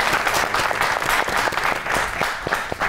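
A studio audience applauds for a guest on a Pakistani comedy talk show, a dense, steady burst of clapping that holds evenly loud for about three seconds.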